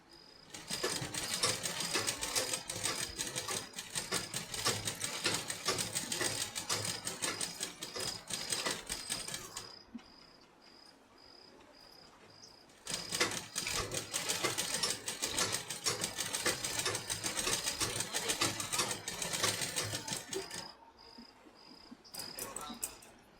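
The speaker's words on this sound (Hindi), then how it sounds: "तो चलिए मैं इसकी अब सिलाई करती हूँ।" A sewing machine runs in two long, steady bursts, stitching a lining and fabric together along the hem of a size 32 princess-cut garment, with a short quieter pause between runs and no talking.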